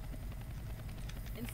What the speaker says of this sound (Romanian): Aud o mașină. Sau un elicopter.